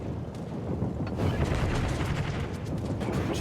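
Anti-aircraft flak bursting around a carrier aircraft in a naval video game, a steady rumbling barrage of dull booms and crackling pops that swells slightly midway.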